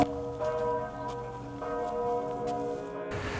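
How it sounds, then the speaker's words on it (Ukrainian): The Sigismund Bell, Poland's largest church bell, at Wawel in Kraków, tolls with a deep, sustained ringing hum, its tones lingering and overlapping steadily at a moderate distance. "Це кролевський дзвон Зігмунд, найбільший дзвін в усій Польщі."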